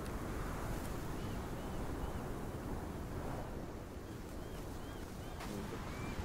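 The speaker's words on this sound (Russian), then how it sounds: "Хуя тут ветер." Steady wind blows through the forest in the video game Sons of the Forest, a constant broad rushing roar that stays level throughout with no speech over it.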